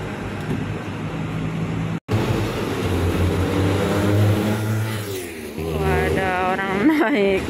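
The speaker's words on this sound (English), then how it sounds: "Naik motor kenceng banget" A motorbike speeds along a busy Hong Kong street, its engine droning loudly nearby and then revving up with a rising whine toward the end, over steady traffic noise.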